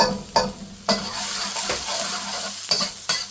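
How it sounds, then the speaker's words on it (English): Chopped onions and garlic sautéing in a pan, a steady close sizzle broken by several scraping stirs of a utensil against the pan. "we just need to saute those onions until they're a little softer"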